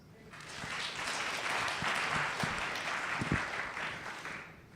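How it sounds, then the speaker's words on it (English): Panel audience at a space-startup event applauding for Star Wars, the clapping swelling in after a brief quiet start and holding as a broad, even roar before easing slightly at the end. "clap your hands"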